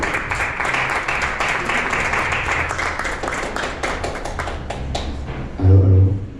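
Audience applause for a percussionist at the Foro Hermes Music Club, steady dense clapping filling the room for several seconds, ending with a short louder thump.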